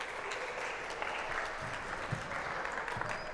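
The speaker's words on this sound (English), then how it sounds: "Now, I think that deserves a round of applause." A round of applause for dog owners at a dog training class, with steady, moderately distant clapping from a small crowd continuing throughout.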